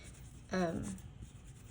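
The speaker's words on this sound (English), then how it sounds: "you can remedy that by scraping in the opposite direction, which is what I'll do this time" A scraper drags nail polish across a metal nail stamping plate in a single short, close scrape that fades quickly against a faint background.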